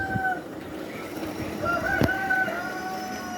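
Domestic laying hens on a small farm give a few short calls, with one bright call standing out near the middle over a steady low background; no one speaks.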